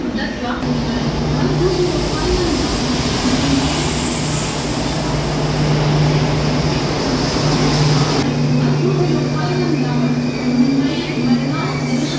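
A steady, loud mechanical rumble with a low droning hum fills the scene as a Jan Shatabdi train arrives at a crowded Thane station platform, with a busy, noisy background throughout.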